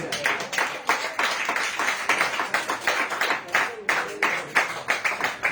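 A church congregation clapping together in a brisk, fairly even rhythm, close and moderately loud, with voices mixed in underneath.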